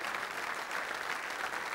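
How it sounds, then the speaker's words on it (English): Audience applause at a breast cancer foundation's rugby long lunch, a steady dense wash of clapping from a crowd, sustained and fairly close throughout without speech. "Give her another round of applause"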